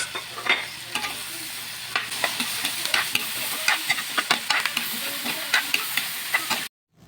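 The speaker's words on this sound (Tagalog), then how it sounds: "Sumunod ko na nilagay ang ating ginayat na pork sa kawali na mainit." Sliced pork with red chili and onion fries in a hot pan for sisig, a steady sizzle broken by frequent sharp scrapes and clatters of stirring, close and continuous until it cuts off near the end.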